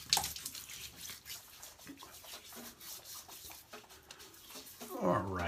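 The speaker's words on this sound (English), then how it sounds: "let me wet my face" Water splashes and rubs as a face is wetted by hand before shaving, a soft, steady wet patter close to the listener that swells briefly near the end.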